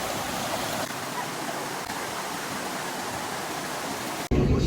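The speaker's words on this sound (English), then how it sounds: "We're at a waterfall," A waterfall in the UK pours with a steady, loud, broadband roar that stays constant and close throughout, briefly shifting in tone near the end.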